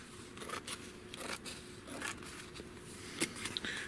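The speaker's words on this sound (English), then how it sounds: "We're just getting the scissors to cut right on the edge." Scissors snip along the edge of an RC trainer model part, a series of quiet, crisp cutting clicks in an irregular rhythm, close to the microphone with no talking.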